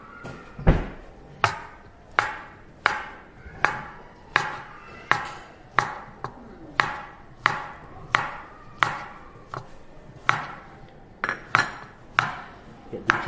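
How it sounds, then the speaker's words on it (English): A knife chops a banana on a board in steady, evenly spaced strokes, about a dozen sharp, close knocks, each with a brief ringing tail and a faint background between them. "we're just going to chop the banana up"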